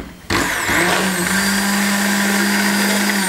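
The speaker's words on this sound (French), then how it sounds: "toujours le faire avec quelque chose qui tourne vite, donc soit un mixeur, soit un batteur électrique" An electric immersion blender whips a sauce into foam, starting abruptly and then running as a loud, steady high-speed whir with a constant motor hum and no talking.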